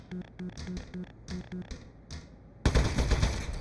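Rapid bursts of shots fired from a gadget in Aperture Desk Job, a few quick clusters of clicky hits followed by a louder, sustained noisy blast near the end.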